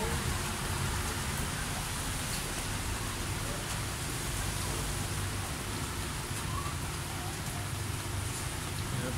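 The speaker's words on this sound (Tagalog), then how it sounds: "Maulan kasi." Steady rain falls throughout, a dense even hiss of drops hitting surfaces close by, with no break over the whole stretch.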